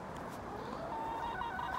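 Chickens cluck on an allotment, a few soft, scattered clucks and calls rising over faint outdoor background noise, fairly quiet and at a little distance.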